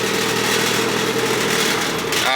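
A Kubota RTV 900 utility vehicle's diesel engine drones steadily while coasting downhill on engine compression, a loud continuous rumble and whine with open-air wind noise, close to the listener.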